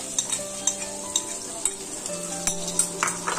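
Chopped garlic frying in melted butter, a bright steady sizzle with quick regular clinks of a spoon stirring against the pan, close and without speech.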